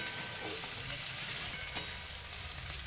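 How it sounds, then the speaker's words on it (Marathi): Tomatoes being stirred and fried in a pan for a leftover-rice dish, a soft continuous sizzle with a spoon scraping now and then and one sharp clink, fairly quiet and without speech. "प्रज्ञाने आता टाकले आहेत टमाटो छान असं प्रज्ञा मिक्स करून घेत आहे सगळं"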